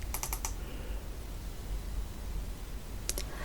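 Computer keyboard typing in Photoshop: a quick cluster of about five crisp, close key clicks, a quiet stretch of low background hiss, then two or three more clicks near the end.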